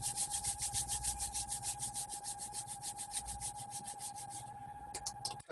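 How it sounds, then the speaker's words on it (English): Hands rubbing together briskly in a seated t'ai chi warm-up, a fast even run of close, dry swishing strokes that continues steadily before a few final rubs. "Rubbing your hands together."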